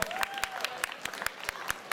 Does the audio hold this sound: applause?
yes